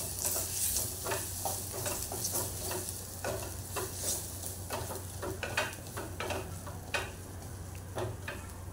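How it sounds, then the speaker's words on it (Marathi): Spices, including garam masala and Malvani masala, sizzle while being stirred in hot oil for a spicy Konkan-style egg curry. There is a steady close frying hiss with repeated spoon scrapes and clinks in the pan, and no talking. "आता सगळे मसाले आपण परतून घेऊया छान तेलामध्ये"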